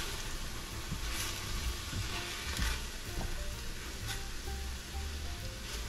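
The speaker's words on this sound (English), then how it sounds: "the sound of the vegetables and beef sizzling are great together" Ground beef and vegetables sizzle steadily in a hot pan while browning, a constant close crackling hiss with occasional scraping stirs.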